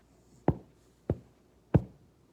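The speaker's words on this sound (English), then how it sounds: "He knocks on the door again." Three firm knocks on a door, evenly spaced about half a second apart, close and clear against a quiet background.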